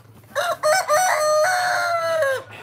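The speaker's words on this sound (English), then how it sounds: "I got four chickens." Backyard chickens give a few quick clucks, then a rooster lets out one loud, close cock-a-doodle-doo crow that holds its long final note before dropping off.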